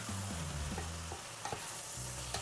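A spoon scrapes and stirs tomato paste through a sizzling pan for Uyghur lagman, with steady frying crackle and a few sharp clinks against the metal, close up with no talking.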